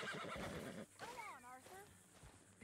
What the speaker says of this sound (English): Called the escaped horse.